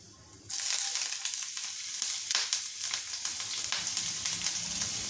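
Finely chopped garlic and ginger hit hot ghee with a sudden loud sizzle that keeps hissing and crackling close up, punctuated by stirring scrapes.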